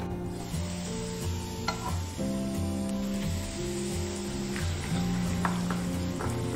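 Hot oil is added a little at a time to chili flakes, making a steady close sizzle and crackle with soft stirring, all under a continuous low hum and free of any talk.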